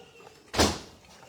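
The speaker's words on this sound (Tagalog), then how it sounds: "Isara mo yan, pinto" A door swung shut with a single dull thud, one short close impact over quiet room ambience.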